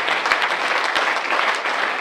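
Audience applause at a charity evening, a dense, steady wash of many hands clapping throughout, fairly loud and close with no talk over it.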